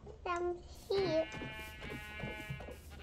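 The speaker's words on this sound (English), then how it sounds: "I think you found just some sheep." Sheep in Minecraft bleat in short, close calls, two distinct bleats in quick succession with quieter game sounds between.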